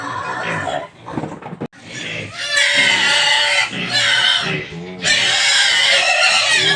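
Loud, harsh squealing from hungry pigs close by at feeding time. The squeals come in long, overlapping bursts with only brief breaks.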